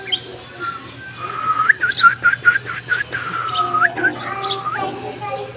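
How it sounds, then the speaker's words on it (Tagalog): A whistle is blown in a rapid series of short, bright chirping tweets to call pet African lovebirds, with faint bird calls mixed in over a steady low hum. "makatawag kasi yung pito ko"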